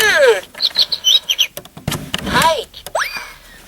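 A children's alphabet toy plays a short electronic bird chirp, a quick series of bright tweets between clicks and bumps of handling, close and fairly loud.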